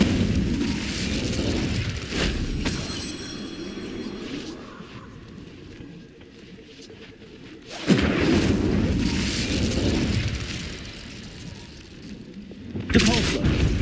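Incendio fire spells cast in Hogwarts Legacy on PC bring booming, crackling bursts. A rumbling blast fades out, then two sharp, loud eruptions hit near the middle and the end, with voices mixed in among the effects.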